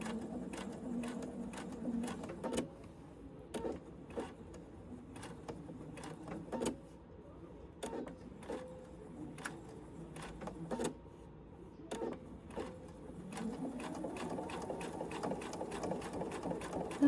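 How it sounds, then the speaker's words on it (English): A sewing machine stitching a Huxley bowl filler, a fast even mechanical patter that starts and stops in short runs with brief pauses between them, close and steady. "I'm going to back stitch to lock my stitches"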